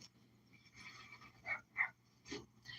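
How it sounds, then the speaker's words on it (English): A neighbor's puppy gives a few faint, distant yips and short barks in a quiet room, spaced irregularly with soft panting-like breaths between them. "Did you just hear that puppy bark?"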